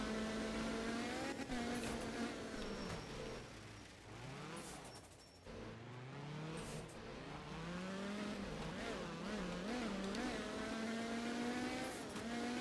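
A Group S rally car in art of rally drives a reversed stage in Germany in the rain. Its engine revs up and down continuously, rising and falling in pitch through gear changes, with gritty tire noise underneath.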